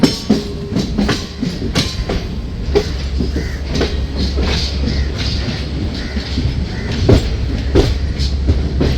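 A passenger express train rolls along the tracks with rhythmic clickety-clack of wheels over rail joints and a low rumble, loud and close throughout.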